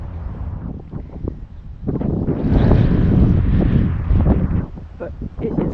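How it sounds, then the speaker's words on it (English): Strong wind blows at a lakefront campsite in Promised Land State Park, Pennsylvania, buffeting the microphone in loud, rumbling gusts that rise and fall, with a person talking underneath. "But it is way windy."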